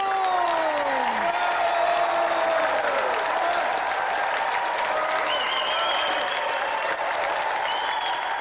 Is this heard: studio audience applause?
yes